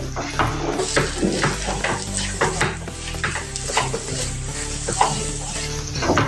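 Red chili powder and spices being stirred and mixed in a hot pan, a steady close sizzle with repeated scraping strokes throughout and no talking.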